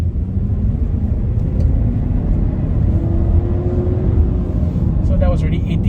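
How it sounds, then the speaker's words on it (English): Proton X70 SUV at full throttle in sport mode, its engine induction noise a steady, loud low rumble with faint rising tonal harmonics that persists continuously from the cabin. "the main thing you can hear when you go full throttle is the induction noise"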